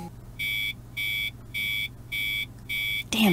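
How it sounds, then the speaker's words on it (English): An alarm clock in a visual novel game gives five evenly spaced electronic buzzes, loud and close, before a voice starts right at the end. "I roll over and slap the snooze button on my alarm clock."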